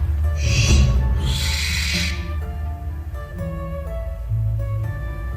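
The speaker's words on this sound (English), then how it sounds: "then came the barn owl" Two long, harsh, hissing screeches from a barn owl ring out close and loud, followed by quieter background tones.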